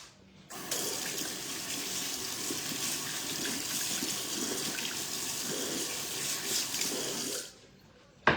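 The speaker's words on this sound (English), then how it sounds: "Just gonna wash my hands." Hands being washed under a running kitchen tap, a steady rush of water splashing into the sink for several seconds before it shuts off abruptly.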